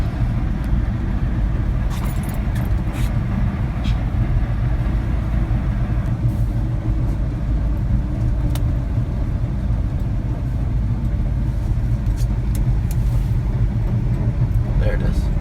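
1983 Chevy K10 4x4 driving in four-wheel drive, with a suspected wheel bearing or differential fault: a steady, heavy low rumble and droning drivetrain noise throughout, with occasional knocks and clicks, heard from inside the cab while someone talks.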